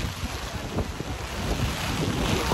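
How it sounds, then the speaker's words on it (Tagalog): Strong wind buffeting a riverside campsite in the rain, a loud continuous roar of broadband gusts hitting the microphone with a rumbling low end and no voices. "Tignan nyo guys kung gaano kalakas ang hangin ngayon."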